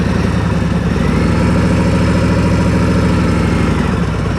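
A motorcycle engine runs steadily at low RPM during a riding lesson, a close, continuous rumbling drone with no pauses and no voices over it.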